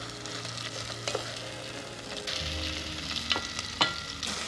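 Pasanda pieces frying in a pan while being stirred gently, a continuous close sizzle with soft scraping strokes and a few louder stirring knocks, no voices.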